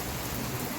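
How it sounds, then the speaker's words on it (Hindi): Heavy monsoon-style rain pouring steadily outdoors in a rural village morning, a dense continuous hiss of drops on surfaces, loud and close with no pauses. "झमाझम बारिश।"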